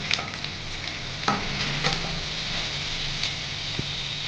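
Garlic fries in hot oil for a tempering, a continuous close sizzle broken by a few sharp clinks and scrapes of a spoon stirring in the pan.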